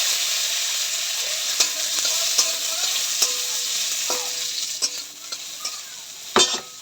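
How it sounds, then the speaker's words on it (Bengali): Cashews and raisins fry in ghee as a spoon stirs them, giving a close, steady sizzle broken by repeated sharp scrapes and taps against the pan. "ঘি ঢেলে দিয়েছি, আর এর উপর ওপরে আমি একটু দিয়ে দেবো হচ্ছে কাজু কিশমিশ।"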